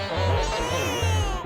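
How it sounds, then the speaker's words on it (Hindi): An infant wails from a television in a home, a short, close, high, whining cry with wavering pitch that sounds slightly processed, with no talk over it. "ये बच्चे के रोने की आवाज कहाँ से आ रही है?"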